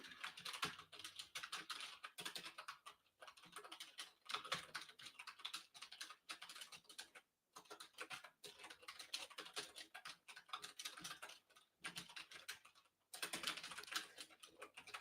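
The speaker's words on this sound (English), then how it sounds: "Again, sorry for the loud typing." Rapid typing on a computer keyboard, dense bursts of clicking keys with brief pauses between runs, close and steady throughout.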